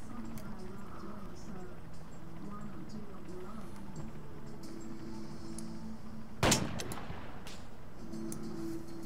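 A single loud, sharp burst of gunfire at close range in the military shooter game ARMA 3, standing out against steady background game noise and ambience.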